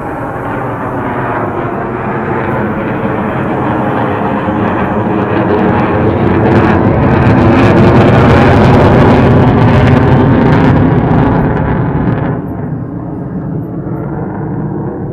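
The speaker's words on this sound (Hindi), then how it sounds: "ये देखिए सुखोई 30 एम के आई, इंडिया का फोर्थ जनरेशन एयरक्राफ्ट।" A Sukhoi Su-30MKI fighter jet passes overhead with a loud, heavy, continuous roar. The roar swells to a peak midway, then eases slightly as the jet moves away.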